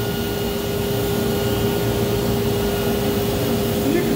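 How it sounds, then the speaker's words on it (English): A banner heat welder runs along a folded hem, giving a steady blower-like hiss and drone with a faint constant tone, continuous and close throughout, with a voice talking over it. "Drop the nozzle and begin the heat welding process."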